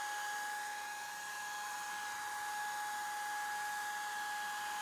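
A heat gun or hair dryer blows hot air steadily onto fresh paint on a Miata during rust repair in a garage, a continuous loud whooshing roar with a constant whine and no pauses.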